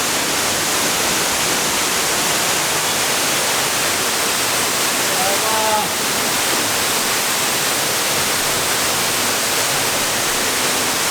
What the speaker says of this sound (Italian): Cioè è veramente incredibile la potenza della cascata.